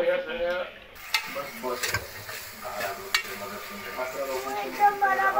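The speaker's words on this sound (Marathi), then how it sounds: "सो आता मम्मी याच्यात हिरवे वाटाणे टाकत आहे" Green peas tipped into a frying pan for a homemade vada usal and stirred, with soft sizzling, scraping and clinks of a spoon against the pan, mixed with background talk.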